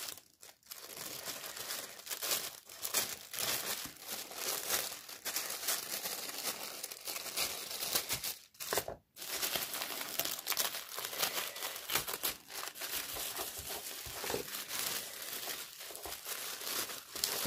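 A parcel packed in tissue paper is unwrapped. Soft, close crinkling and rustling of thin paper goes on continuously, with brief tearing crunches and one short pause partway through.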